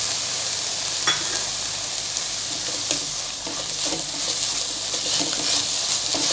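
Tomatoes sautéing in a pan for egg podimas, a continuous bright sizzle with occasional stirring scrapes and clicks, fairly close and steady, no voices.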